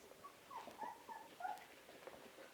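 Three-week-old puppies whimpering and yipping softly as they eat, a series of short high whines close by, fairly faint, with no speech over them.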